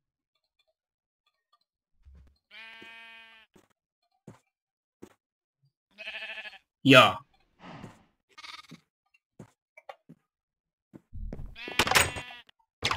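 Blocky Minecraft sheep bleat several times in short, nasal bursts spread across quiet stretches, mixed with small ticking game sounds and brief talking.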